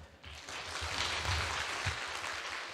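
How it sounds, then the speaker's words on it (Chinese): Audience applause after a talk at the HITCON CMT 2017 security conference: a steady, soft wash of clapping from a crowd that holds for a few seconds at low volume. "我们就以热烈的掌声谢谢"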